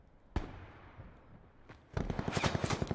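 Video game gunfire: a single sharp shot, a second fainter crack, then a rapid close burst of automatic fire in quick regular pops, loud against a quiet background.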